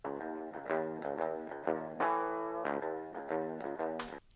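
Clean, lightly driven direct-input electric guitar plays rhythmic chord stabs with short pauses, a longer sustained chord in the middle, no talking.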